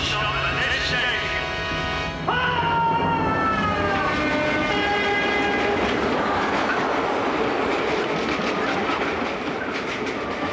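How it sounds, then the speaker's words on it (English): An intercity train roars through a London station without stopping, its horn sounding as it nears, then a long, loud rush of wheels clattering over the rails that fills the platform. "This intercity train does not stop at this station."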